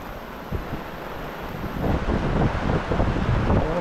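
Wind buffets the microphone aboard a sailboat at sea, a steady rushing roar with gusty surges that grow stronger midway, with water wash underneath.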